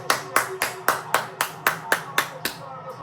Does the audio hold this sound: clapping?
yes